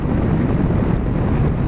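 Steady, loud rushing wind buffeting the microphone while riding a Yamaha Ténéré 700 motorcycle, a continuous low roar with no pauses.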